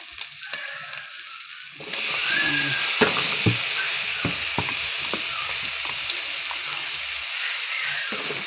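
Pork fat sizzles loudly in a hot pan, then garlic and onion go in and the frying surges into a dense, steady hiss, with occasional stirring scrapes and taps close by.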